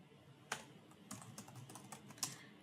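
Keys clack on a computer keyboard while a legal search is typed, several scattered keystrokes with a couple of sharper taps, quiet and close with no talking.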